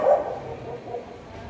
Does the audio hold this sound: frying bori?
no